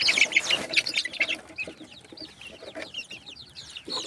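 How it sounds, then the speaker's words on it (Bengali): Several chickens cluck and squawk close by in winter, a busy cluster of short calls at the start, then scattered softer clucks and murmurs continuing. "দেখুন আমাদের মুরগিগুলো শীতকালেও কেমন চঞ্চল ও সুস্থ রয়েছে।"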